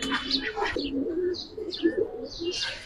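Giribaz pigeons coo in a loft, soft low rolling calls repeating steadily through the clip with a few higher chirps and tweets mixed in, fairly close and moderately loud.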